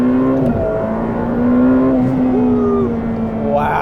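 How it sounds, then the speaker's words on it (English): A Ferrari F8 Tributo's engine exhaust sound piped into the cabin, a loud, smooth, steady drone that swells slightly under acceleration, heard from inside the car. "Oh, so you have piped in exhaust noise."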